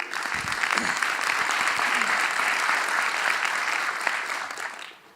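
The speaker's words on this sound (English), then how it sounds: "I think that in itself deserves a round of applause." An audience at a chamber of commerce economic forum applauds warmly, a dense wash of clapping that holds steady for several seconds before fading at the end.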